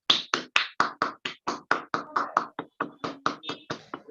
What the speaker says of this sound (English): Please make very welcome with a warm applause our evaluator for the first speech